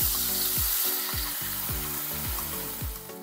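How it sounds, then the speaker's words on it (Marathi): Mustard seeds and cumin crackling and sizzling in hot oil, a loud dense hiss with repeated sharp pops and bursts throughout, no voices. "तेल तापलं की त्यामध्ये ॲड करूया मोहरी, त्यामध्ये ॲड करूया जिरं."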